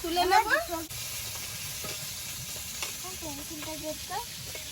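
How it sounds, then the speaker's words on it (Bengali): Pieces of magur catfish fry in hot oil with a steady, soft sizzle while people talk over it. "মাছগুলো ভাজা হয়েছে"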